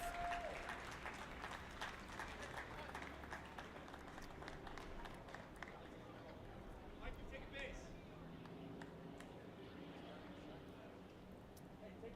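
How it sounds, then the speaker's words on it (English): A distant crowd at a Legion baseball game applauds a departing pitcher, giving faint, steady clapping under an announcer's voice throughout. "a very well-deserved round of applause for Scott Kaltoff"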